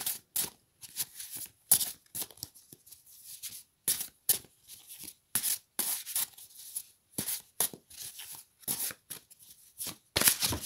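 A deck of tarot cards is shuffled by hand in repeated short riffling bursts separated by brief pauses, close and crisp, with soft rubbing and card-handling between strokes.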